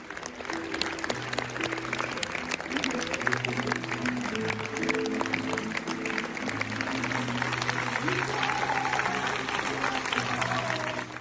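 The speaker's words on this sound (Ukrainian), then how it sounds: "А ось такими оваціями зустрічали наших митців на фестивалі" An ovation for Ukrainian filmmakers at the Venice film festival: a dense, sustained crowd applause of many hands clapping steadily, with a low musical drone underneath throughout.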